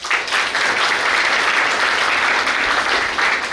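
Audience at a university retirement ceremony clapping for the zoology department, a dense, steady round of applause sustained loudly throughout with no voices over it.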